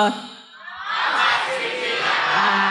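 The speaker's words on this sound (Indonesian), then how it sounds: "Coba dong teman-teman kasih bilang semangat skripsinya kak gitu." A crowd at a university student orientation event (PSMB 2023) bursts into loud, sustained shouting and cheering of encouragement after a short quiet moment, filling most of the clip.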